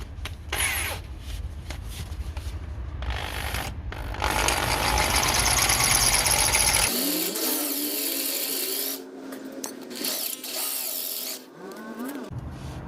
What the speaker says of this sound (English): We've managed to drill the head of that bolt out.